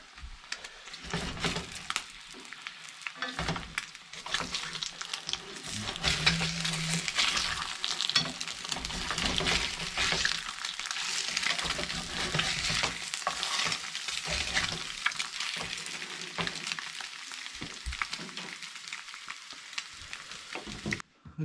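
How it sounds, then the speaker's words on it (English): Fresh eggs from a rural acreage's chickens frying in a pan at an off-grid Alberta home, a steady close crackling sizzle with scraping and clatter as a spatula turns them. "I think it's time to flip those eggs over"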